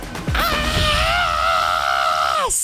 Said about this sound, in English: she pulls her hands by her side with two fists and lets out this blood-curdling